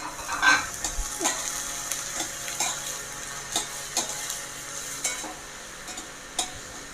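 Chopped capsicum, chilli and ginger sizzle in a pan for a breakfast dish, with a steady frying hiss and a spoon stirring in regular tapping scrapes throughout.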